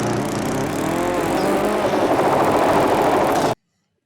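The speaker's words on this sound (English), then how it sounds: "You get a lawnmower, a pretty brain-dead lawnmower." A lawnmower engine roars steadily from a 1986 horror film, loud and continuous for about three and a half seconds before cutting to silence.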